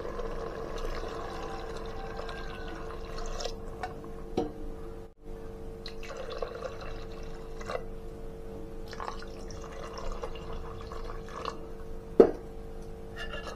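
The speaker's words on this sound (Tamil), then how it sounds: "இப்போ ஃபஸ்ட்டு நம்ம தண்ணி ஊற்றிடலாம்" Water being poured into a pot for chicken biryani, a steady low trickle and drip running throughout with a few brief knocks and clinks, no voices.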